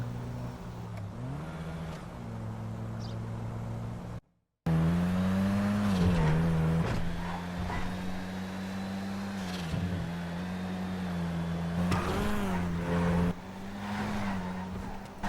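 A touring-car-spec Vulcar race car in GTA 5 roars at close range, its engine note climbing and dropping through gear changes, cutting out briefly, then revving hard again with a sustained loud drone.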